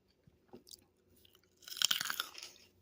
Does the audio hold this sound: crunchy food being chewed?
yes